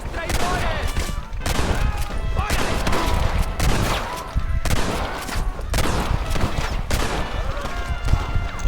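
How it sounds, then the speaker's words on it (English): Dense, continuous gunfire from a crowd of rebels in the desert shooter game El Mexico, with overlapping rifle and machine-gun bursts crackling loudly and almost without pause, and a voice talking beneath the barrage. "There are 100 rebels shooting at us."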